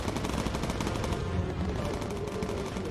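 Bomber guns chatter in the aerial combat game Bomber Crew, firing rapid, continuous bursts that crackle steadily for the whole stretch over a dull engine drone.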